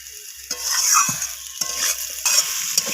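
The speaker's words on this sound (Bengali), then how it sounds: "ক্যাপসিকামটা দিয়ে আমি একটু নাড়াচাড়া করে নিচ্ছি।" Capsicum being stirred into a mustard-poppy rohu fish curry masala in a pan, with scraping spoon strokes and a soft steady sizzle, close and moderately loud, no talking.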